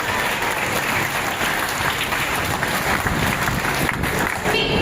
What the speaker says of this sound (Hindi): एक बार जोरदार तालियों से मैम का स्वागत